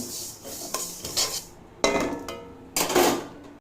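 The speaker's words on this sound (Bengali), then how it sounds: "এই ডালকে আমি হালকা এইভাবে ভেজে নেব" Moong dal dry-roasted and stirred in a pan, with gritty scraping and rattling of lentils against metal in repeated sweeps, close and fairly loud, with no talking.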